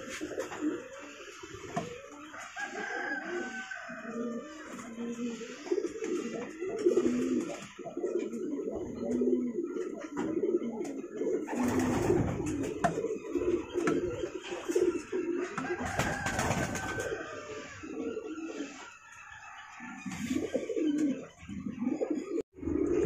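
Pigeons coo softly and repeatedly around a pigeon loft, a low, continuous murmuring with occasional fluttering and rustling close by.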